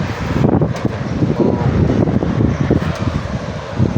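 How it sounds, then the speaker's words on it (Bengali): Strong wind blows during a heavy rainstorm at Shaiba in Saudi Arabia, a loud, continuous roar that buffets the microphone with no clear pauses. "দেখেন কি হালে বাতাস"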